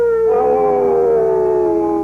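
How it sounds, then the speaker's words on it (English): A loud, close dog-like howl rises and slowly falls in pitch, one long sustained wail with no one speaking. "Kalat, a pony-sized Martian dog with a frog-like head."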